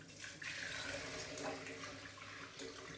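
Fresh cow's milk pours steadily through a filter into a container, a continuous close-up liquid rush and trickle lasting throughout, with no talking.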